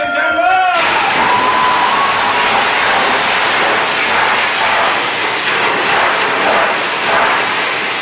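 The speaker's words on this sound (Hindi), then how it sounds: "जोरदार तालियां फॉर दिस धमाकेदार टीम, लेडीज एंड जेंटलमैन" Loud, dense crowd cheering and applause fill a song launch event, a steady roar of clapping and shouts that holds throughout, with a short burst of musical tones at the very start.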